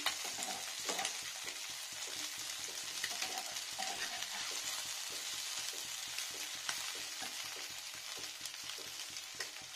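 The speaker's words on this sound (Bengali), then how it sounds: "একটু ফ্রাই করবো, ডিপ ফ্রাই নয়, শ্যালো ফ্রাই" Egg and coriander leaf fritters shallow frying at low temperature in a pan, a continuous soft crackling sizzle with scattered light pops, steady and fairly quiet for the whole stretch, with no talking.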